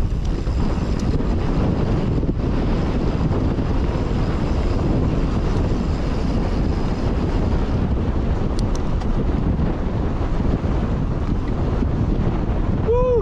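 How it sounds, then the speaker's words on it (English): Strong wind roars continuously across the microphone during a mountain bike ride, a dense, steady rumble of gusts with no pauses throughout. "Woo, gets super windy."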